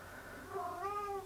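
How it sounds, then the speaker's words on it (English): A pet cat meows once in a drawn-out, rising and falling call, close and clear over a quiet room. "My little cat."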